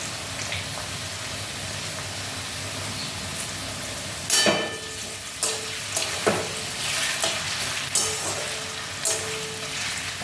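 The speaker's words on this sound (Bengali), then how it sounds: "এই দেখো, এটা ভাজছি" Steady sizzling of food frying in a pan, broken by several sharp scraping stirs and clanks of a utensil against the metal.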